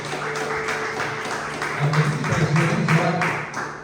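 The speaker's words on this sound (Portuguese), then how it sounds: "Aplauda o Senhor em nome de Jesus." A church congregation claps in steady rhythmic beats, a moderately loud crowd sound with a sustained tone and voices lifting underneath.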